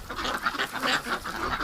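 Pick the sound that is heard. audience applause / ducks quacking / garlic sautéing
ducks quacking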